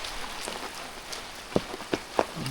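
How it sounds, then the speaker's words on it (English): Heavy rain pours steadily during a hike to Materuni Waterfalls, a dense constant hiss with a few louder drops or splashes spattering nearby. "This rain doesn't want to stop though."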